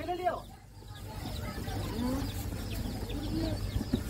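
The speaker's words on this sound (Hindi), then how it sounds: "मुर्गी का बच्चा" Young chicks at a poultry market on a busy roadside chowk chirp and cluck steadily in a thin, high chatter, with background crowd murmur and voices talking throughout.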